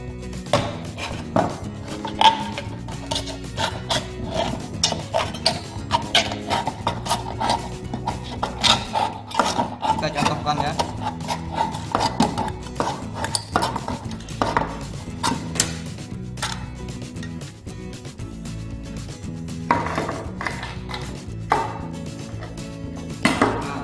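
Homemade stove from scrap materials being cut from metal sheet, a run of sharp clanking snips and metallic clicks repeating irregularly and close up for over twenty seconds with no talking.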